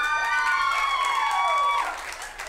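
Comedy club audience at a stand-up show cheering and clapping, a steady loud wash of applause with high whoops and whistles on top that thins out near the end.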